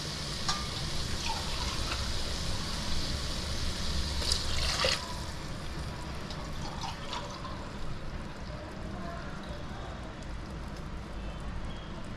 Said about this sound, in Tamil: இப்போது நம்ம ரைஸுக்கு தேவையான தண்ணி ஊற்றிக்கலாம்.